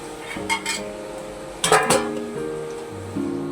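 A pot lid handled on a cooking pot of poppy-seed fritter curry, with a few close metallic clinks and clatters in two brief bursts, ringing tones trailing after, no talk.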